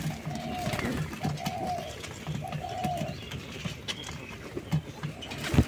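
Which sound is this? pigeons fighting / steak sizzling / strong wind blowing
pigeons fighting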